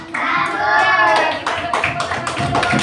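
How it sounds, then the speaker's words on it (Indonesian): A university class claps hands together in a room, a brief burst of clapping that follows voices speaking. "Ya, kita tepuk tangan dulu."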